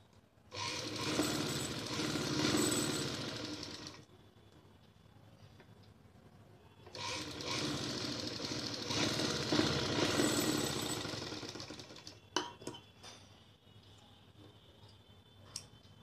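Close sewing machine stitching a salwar, two sustained runs separated by a pause, followed by a few sharp clicks and handling noises toward the end.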